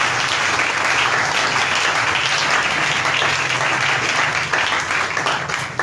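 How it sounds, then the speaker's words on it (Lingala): A church congregation claps in sustained, lively applause that fills the room, loud and continuous with a few scattered cheers. "Acclamez pour cette écriture."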